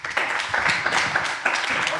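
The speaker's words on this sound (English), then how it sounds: "Round of applause." Audience applause for a founder walking up on stage at a startup pitch event, a steady dense wash of clapping lasting about two seconds with cheers and voices mixed in.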